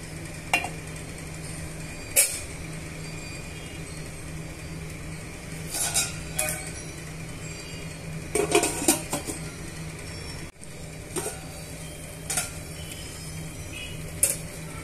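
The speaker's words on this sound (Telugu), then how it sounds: "సాల్ట్ని యాడ్ చేసుకున్న తర్వాత ఇవన్నీ బాగా మిక్స్ చేసుకొని పులుసుని బాగా ఉడికించుకోవాలి" Fish curry broth being stirred in a cooking pot: scattered metallic scrapes and clinks of a utensil against the pot, a few louder bursts, over a steady low kitchen hum with no talking.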